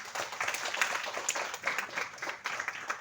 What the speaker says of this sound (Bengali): তার জন্য একটা হাততালি হোক